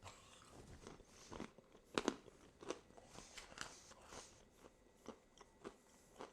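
Close-up biting and chewing of a crunchy MRE pretzel, repeated crisp crunches at an irregular pace, quiet, with no talking.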